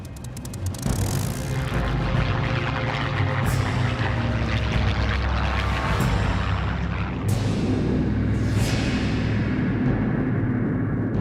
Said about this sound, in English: The skies above southern England are filled with aircraft and the sounds of battle.